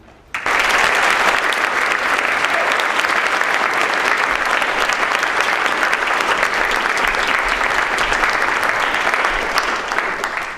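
Sustained applause from a large audience welcoming a guest speaker at an evening lecture, a dense, even roar of clapping that starts abruptly and holds steady at full strength to the end.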